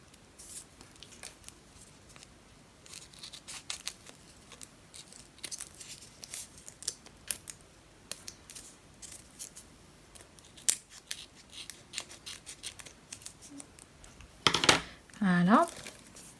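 Scissors snipping and trimming vintage paper for a handmade card, a series of close, crisp cuts scattered through the clip, with a few louder crinkly snips near the end and soft handling noise between.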